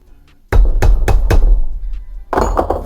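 Hammer blows straightening a bent lock washer on a Simson S51 motorcycle engine: four sharp metallic knocks in a quick series, a brief pause, then a cluster of more strikes, close and loud with no talk.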